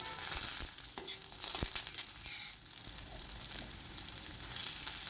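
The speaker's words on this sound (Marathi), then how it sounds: "जिरे चांगले फुलल्यानंतर त्यामध्ये लसूण टाकून घ्यायचा आणि लसूण चांगला परतवून घ्यायचा।" Garlic frying in hot oil with cumin, a steady close sizzle with light crackles and a few clicks from stirring, alone throughout.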